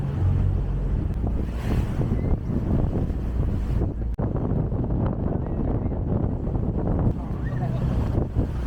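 Steady rushing of waves and engine rumble aboard a moving ferry near Portofino, with wind buffeting the microphone throughout.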